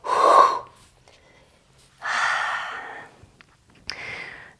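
Three forceful, breathy exhales from a person stepping forward during a yoga-style exercise flow, close and alone, each lasting about a second, with short quiet gaps between them.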